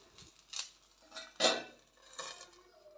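A lid set down on a cooking pan while plantain polichathu cooks, giving a few light metallic clinks and clatters, with one louder clank in the middle and no talking.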